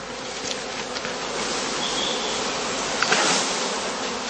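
Cast bees swarming at a heather skep apiary on heathland, a loud, unbroken buzzing close by, with a few faint knocks and no voices.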